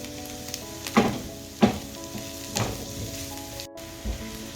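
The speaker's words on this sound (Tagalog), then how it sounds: "Palutuin muna natin ang sibuyas bago tayo maglagay ng bawang." Onion sizzling in a hot pan before garlic goes in, with steady frying crackle and several distinct stirring scrapes and hisses at irregular intervals, close and fairly loud, no talking.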